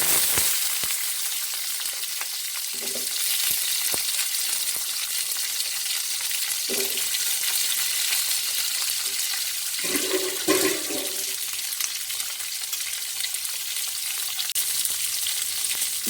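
Shallots sizzling and frying in oil in a pan while mutton kulambu is cooked, a steady hiss with occasional louder crackles and stirring sounds throughout.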